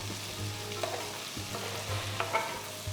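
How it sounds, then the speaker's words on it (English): Onions, green chilli, ginger, garlic and whole spices sauté in a pan for a chickpea kofta curry, a faint, steady sizzle with a few light stirring taps and no voices. "Saute all the ingredients till the onions have turned transparent."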